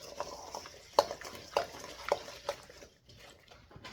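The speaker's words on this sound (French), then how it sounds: "On va bien mélanger le tout." A spoon stirs and mixes seasoned ingredients in a dish, making a few sharp taps and scraping knocks in an irregular rhythm, close but fairly quiet, with no voices.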